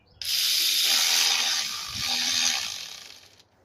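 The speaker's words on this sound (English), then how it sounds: "Now we're about to tighten down the valve cover." A ratchet or power driver tightening the valve cover bolts on a 2007-2011 Toyota Camry, a loud continuous close buzzing whir lasting about three seconds that dips briefly in the middle, with no speech.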